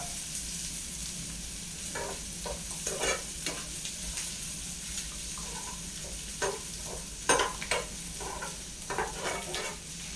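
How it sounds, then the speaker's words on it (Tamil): Onions sauté in a pan for a healthy greens sambar, a soft continuous frying sizzle broken by repeated scraping strokes of a stirring spoon. "வெங்காயம் எப்பயும் வதங்குது பார்த்தீங்களா?"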